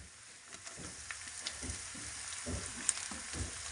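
Potatoes dropped into ghee with browned onions, frying and sizzling in a pan with a steady crackle and a few louder bursts as they settle and are stirred.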